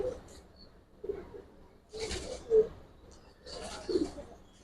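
Soft cooing from Giribaz pigeons of an old Bengali breed at a pigeon fair, a few low coos spread through the clip amid faint background rustle and noise.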